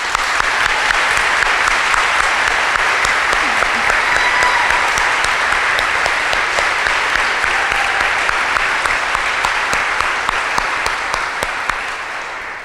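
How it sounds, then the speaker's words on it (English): A crowd at a graduation ceremony claps in dense, sustained applause for about twelve seconds at an even level that thins slightly at the end, with some voices faint beneath the clapping. "Would everybody please clap your hand for a round of applause for appreciation."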